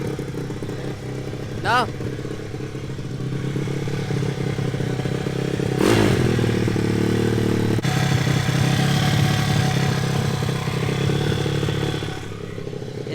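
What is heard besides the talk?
2014 SSR 160TX dirt bike engine idling high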